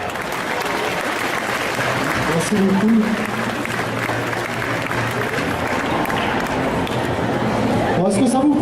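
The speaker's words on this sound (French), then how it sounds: "On peut l'applaudir bien fort s'il vous plaît?" An audience at an indoor cosplay contest applauds a costumed contestant with sustained, loud clapping, while a host speaks over it through a microphone and briefly thanks the crowd near the end.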